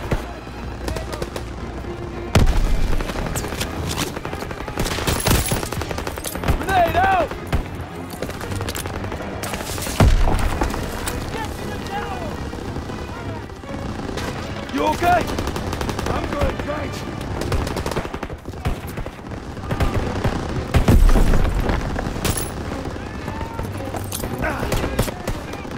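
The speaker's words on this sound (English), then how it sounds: "Throwing a grenade!" Constant gunfire and heavy explosions, grenade blasts among them, fill a Call of Duty: WWII battle on PC, with repeated bursts and several loud booming peaks layered over shouted voices.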